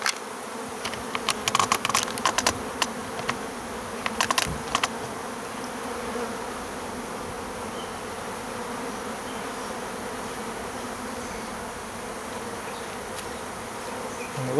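A swarm of honey bees hums in a steady, dense buzz at a hive entrance, close and continuous, with small clicks and taps scattered through the first few seconds; no talk.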